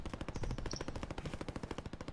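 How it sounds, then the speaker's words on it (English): Rapid automatic gunfire from an online video game crackles in a steady, dense stream of shots for about two seconds, fairly distant and with no talk. "I hear gunfire. You hear it too?"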